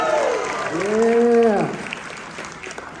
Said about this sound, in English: Now let's get a proud parent applause.